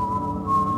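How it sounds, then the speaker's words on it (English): A Whistling Stone in the video game Supreme Ghost Thief gives off a steady, sustained whistle-like tone over a low hum, continuous and fairly loud. "So that's the Whistling Stone, naturally."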